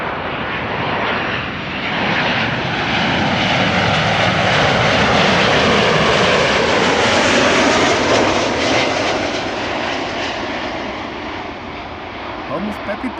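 A Boeing 737-800 jet arriving at Amsterdam Schiphol roars loudly and steadily overhead, a broad rushing engine sound that swells slightly and then eases as it passes.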